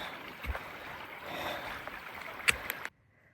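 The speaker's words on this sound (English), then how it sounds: "Here's a water source between Granny Top and Big Cedar, and it's flowing really well as of February 5th." Steady faint flowing water at a trail water source between Granny Top and Big Cedar on the Appalachian Trail, a continuous soft rush with a few small splashes before it cuts off.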